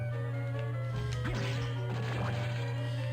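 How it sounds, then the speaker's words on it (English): Bottles smash in Castlevania: Aria of Sorrow, a few sharp crashing hits over a steady electronic hum and game music, fairly loud and close. "You want some smashing bottles down the stairs?"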